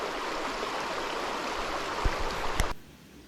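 A small side creek flows steadily nearby as a full, even rush of water. A couple of brief knocks come near the end before the sound cuts off.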